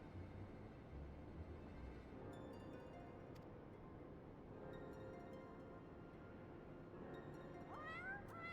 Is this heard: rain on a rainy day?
no